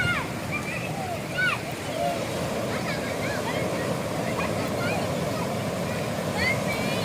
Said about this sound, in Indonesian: Ombak pecah,